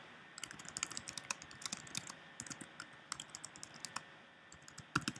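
Quiet typing on a keyboard: irregular bursts of crisp key clicks at a close distance, pausing briefly before a final sharper keystroke, with no voices.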